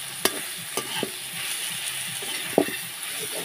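Prawn curry base with turmeric sautéing in a pan, a constant sizzle broken by several sharp spatula scrapes and taps against the metal, close and clear with no talking.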